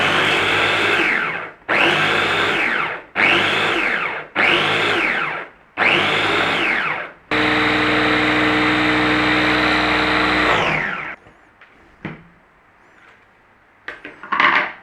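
A blender whizzes curly and flat leaf parsley in five short pulsed bursts, then one longer steady run of several seconds, loud and close, followed by quiet clatter as it stops.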